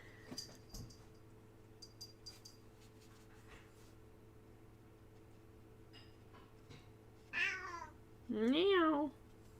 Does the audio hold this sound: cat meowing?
yes